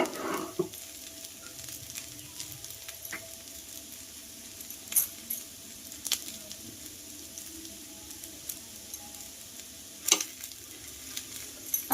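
Appe cook in a pan over a low gas flame with a faint, continuous sizzle, broken by a few sharp clicks and scrapes from turning or handling, close by and with no speech.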